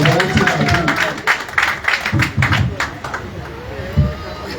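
Crowd clapping at a political party gathering of local leaders and members, scattered uneven bursts of hands mixed with voices and general crowd noise, moderately loud and close.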